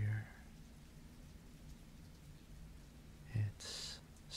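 Steady, soft rain falls throughout a close, intimate ASMR cuddling roleplay, a constant gentle hiss and patter with a brief louder rustle near the end.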